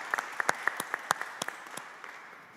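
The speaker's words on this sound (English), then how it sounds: "please give her big applause again" Scattered applause from a small event audience, a few distinct claps in the first second and a half and then a thinning patter that fades toward the end.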